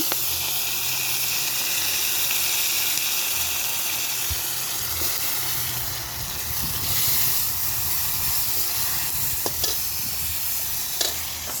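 Tomatoes dropped into a hot karahi (wok) still holding oil from frying fish give a steady, loud, even sizzle and hiss that runs the whole time, with a few faint clinks.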